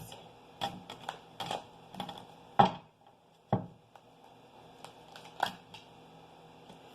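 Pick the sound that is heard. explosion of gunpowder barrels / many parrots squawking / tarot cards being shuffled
tarot cards being shuffled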